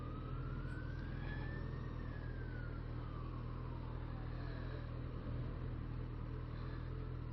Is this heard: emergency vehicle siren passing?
yes